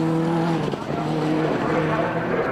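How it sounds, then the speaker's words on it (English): Rallycross race cars charge around a tight circuit bend, their engines roaring and droning loudly together in a continuous, close, layered wash of engine noise. "Doran trying to find the inside line round Druids"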